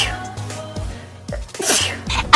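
A person sneezes close up, a sharp burst rising out of breathy, voiced sounds just before it.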